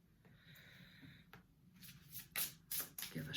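Soft rustling, then several quick papery riffling bursts, like cards being shuffled close by, growing louder toward the end.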